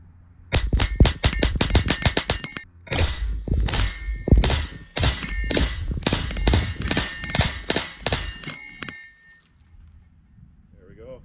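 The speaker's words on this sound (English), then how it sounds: "let's rapid fire the big target." A TM22 fires rapidly at a 100 yard steel plinking target, a fast string of sharp cracks that pause briefly and then resume in a second quick volley, close and loud, trailing off into quiet.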